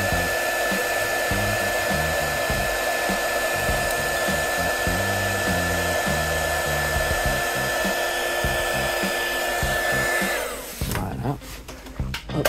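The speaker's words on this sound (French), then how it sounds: "Je vais chauffer le thermorétractable." A heat gun blows hot air onto heat-shrink tubing over a wire sensor connection, making a loud, steady whirring roar with a constant high whine that cuts off abruptly near the end.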